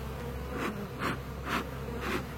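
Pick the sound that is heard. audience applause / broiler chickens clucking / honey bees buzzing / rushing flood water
honey bees buzzing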